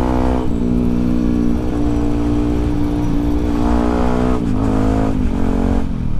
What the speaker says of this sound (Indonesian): Gimana? Enak atau tidak suaranya knalpot ini?